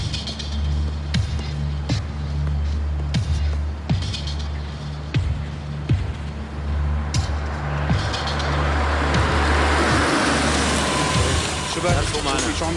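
A car is brought around in a dubbed Turkish drama, its engine rumbling low and steady beneath speech, with road noise swelling toward the end.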